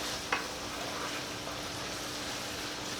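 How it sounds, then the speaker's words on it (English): Bolognese sauce simmers in a pan on heat just below medium, giving a steady, soft, even hiss with one faint knock near the start and no voices. "Drop the temperature down just a little bit, just below medium. We get a nice simmer on this."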